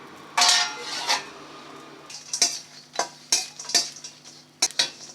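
Dry fish roasting in a pan over a medium flame is stirred with a metal utensil, giving sharp scraping clinks and clatters in irregular bursts over a faint low sizzle, close and loud.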